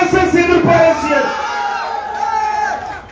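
Crowd at a Tamil political speech by Thirumavalavan, many voices shouting and yelling together loudly at first, then easing into a steadier, softer clamour of overlapping voices.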